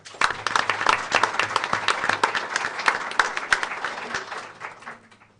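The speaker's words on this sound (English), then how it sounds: "Another round of applause." A modest crowd at a school board of education meeting claps for student award winners, distinct individual hand claps forming a lively round that thins out and fades to silence near the end.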